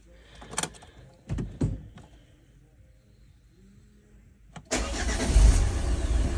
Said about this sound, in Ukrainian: Ну, Машина заводиться.